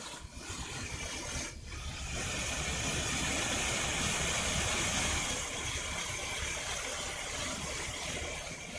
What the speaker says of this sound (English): These engines are jet engines.